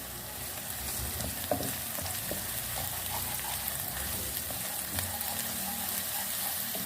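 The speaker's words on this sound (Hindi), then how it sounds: "अब इसमें हम लहसुन का पेस्ट डालेंगे। इसको हम फ्राई कर लेंगे।" Garlic paste sizzles steadily in hot oil in a pan for chicken jalfrezi, a dense, continuous frying hiss with a few faint utensil taps, close and without talk.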